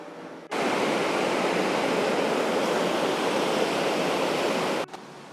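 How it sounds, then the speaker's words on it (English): Steady roar of the waterfall on the Mattawamkeag River at Island Falls, a loud broadband rush of falling water that holds constant for about four seconds before cutting off. "in the middle of this river, there is an island and there's a set of falls"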